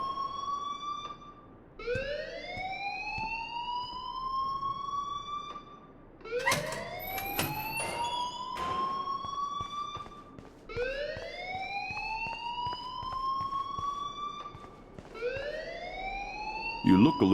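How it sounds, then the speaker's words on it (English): Fire alarm in a Life is Strange game scene, a loud rising electronic whoop that repeats every few seconds over a steady background. "please turn off that alarm since that's your job"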